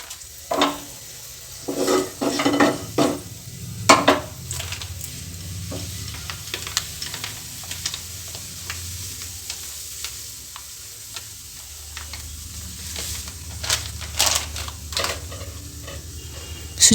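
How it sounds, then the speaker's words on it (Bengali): Semolina frying in ghee for halwa, a low continuous sizzle broken by repeated sharp clicks and scrapes of a spoon stirring against the pan, close by and with no talking. "সুজিটাকে ভালো করে ভেজে নেব।"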